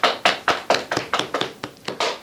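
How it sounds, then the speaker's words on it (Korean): Scattered hand claps from a lecture audience greeting a speaker, a dozen or so sharp strikes in an irregular rhythm, moderately close, with no talking over them. "박수로 부탁드립니다"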